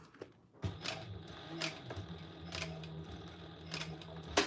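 Home sewing machine back stitching on fabric, a close mechanical whir with rhythmic clicking pulses that repeat through the run, quiet and steady. No one speaks.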